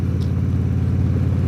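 A motorcycle rides out for the first time, its engine giving a loud, steady, close rumble with a low pulsing drone and no voices.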